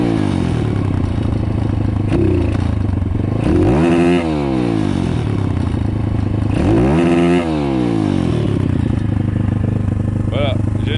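A motorcycle engine with its idle raised and air screw adjusted revs up twice from idle, the throttle hesitating and stumbling before climbing, loud and close with clattering mechanical noise throughout.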